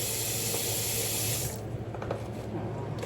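Water running from a faucet into a kitchen sink while vegetables, including baby spinach, are washed for lentil soup; a steady broadband rush that drops to softer, splashier flow partway through.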